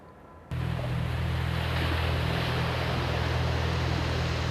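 Sea waves make a continuous roaring wash with wind across the microphone. It starts abruptly after a short quiet moment and holds steady and loud, with a low constant hum beneath.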